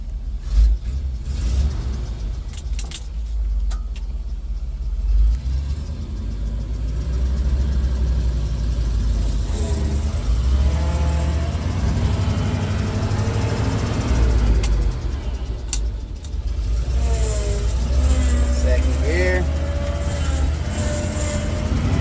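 An old farm grain truck engine running as it drives over bumpy ground, a loud steady low rumble with shifting pitch and occasional rattles, no talking.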